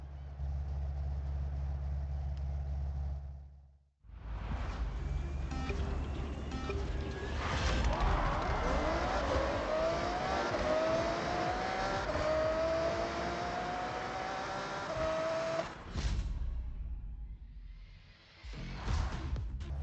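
Engine of a tuned car in a Forza Horizon drag race, starting from a steady idle, then revving hard and accelerating loudly through rising gear changes for over ten seconds before easing off.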